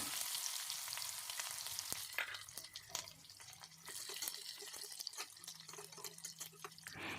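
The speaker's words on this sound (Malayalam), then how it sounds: "കടുക് പൊട്ടിക്കഴിഞ്ഞതിന് ശേഷം ഇതിലേക്ക് ചെറിയ ഉള്ളി ചെറുതായിട്ട് കട്ട് ചെയ്തിട്ട് അതും ചേർത്ത് കൊടുത്തിട്ടുണ്ട്" Mustard seeds crackle and sputter in hot oil with small shallots frying in the pan, a close, quiet sizzle broken by sharp pops and drips.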